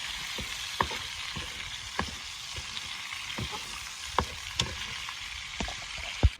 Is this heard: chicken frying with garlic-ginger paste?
yes